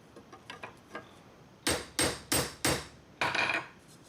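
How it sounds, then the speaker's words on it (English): A hammer peens metal rivets on a wooden Viking shield handle, first a run of light quick taps, then five louder sharp ringing blows spaced evenly, close up with no talk. "Now the more you peen your rivets, the more it's going to put pressure on the wood itself"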